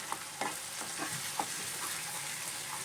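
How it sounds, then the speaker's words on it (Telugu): Pieces of shark fish sizzle steadily in sesame oil in a pan while being stirred, with a few soft scrapes and clicks of the utensil over the constant frying hiss. "ఇది కూడా వేయించేద్దామండి."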